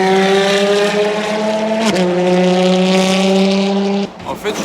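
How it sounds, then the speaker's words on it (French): Ferrari race cars, including FXX K Evo, FXX, F1 and 599XX models, scream around the Spa circuit, a loud sustained high-pitched engine wail with a sharp shift near the middle before it cuts off and fades, heard from a distance. "on les entend de super loin et c'est vraiment impressionnant"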